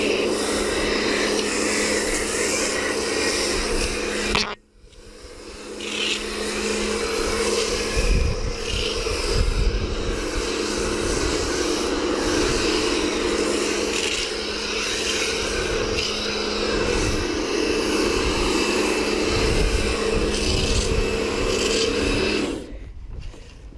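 Pressure washer running steadily through an Audi S3 2014 8V two-bucket car wash, a loud continuous hissing, rasping spray with a brief cut near the start and another drop at the end.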